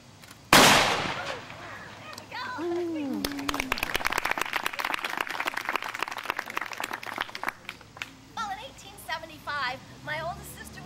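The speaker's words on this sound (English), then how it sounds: "if I hit that axe blade just right, the bullet would split in two and hit 2 targets on either side of that axe blade" Rifle shot fired at an axe blade set between two red targets to split the bullet, one sharp loud crack near the start followed by a clattering burst of applause and cheering, with bird-like whistles and voices later.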